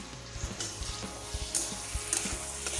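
Pumpkin, pork and ladyfinger fry in spices with a soft, steady sizzle, broken by occasional clacks and scrapes of stirring, with no talking.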